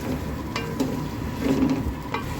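Rice casserole with potatoes, peas and salt stirred in a pot, a steady scraping and mixing with a soft sizzle underneath, loud and close with no voices.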